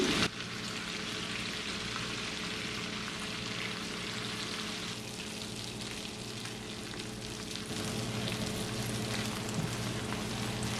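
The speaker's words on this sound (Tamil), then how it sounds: "இந்த முந்திரி வத்தலும் கஜுவும் வந்து இப்போ மூன்று நிமிஷமாக பொரிஞ்சோன்ட்ருக்கு நல்லா பொரிஞ்சிட்டுது" Cashews and raisins fry in ghee for rava kesari with a steady, close, even sizzle that holds for several seconds and grows slightly busier toward the end.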